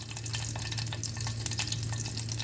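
Boneless shredded chicken filling with masala is stirred and mixed in a hot pan for pizza paratha. Sizzling frying is broken by repeated close scraping stir strokes, with no voices.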